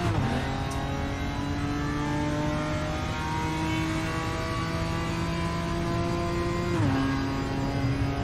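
BMW M4 GT4 race car engine in the RaceRoom racing game, a steady droning tone held at near-constant revs with a brief dip and shift around the gear change, continuous and close without talk.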